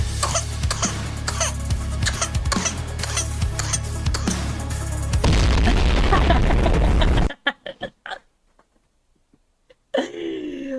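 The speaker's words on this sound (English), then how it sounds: "Hydrogen bomb versus coughing baby." Harsh repeated coughs from a small child crackle through a music bed, then a huge booming explosion roars, followed by near silence and a faint rumble.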